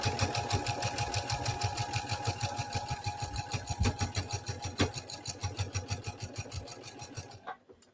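A sewing machine top-stitches a quilted baby blanket, its needle hammering in a fast, even close-up rhythm for several seconds before stopping abruptly at the end.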